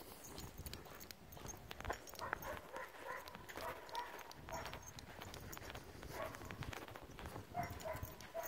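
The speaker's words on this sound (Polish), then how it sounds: "Pieski szczekają, spokojnie idzie." Several dogs bark intermittently in the distance while slow hoof clops and footsteps move along steadily underneath, during obedience training of a wire-haired dachshund.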